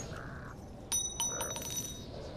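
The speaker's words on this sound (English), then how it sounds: "Try hitting that bell." A metal bell rung in Metro Last Light to distract enemies gives two or three bright, ringing strikes in quick succession over a low game ambience.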